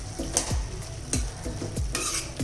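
Grated coconut being stirred into cooked beetroot palya in a pan: repeated spoon scrapes and soft thuds against the pan, about four strokes, close and clear over a steady low sizzle, with no talking.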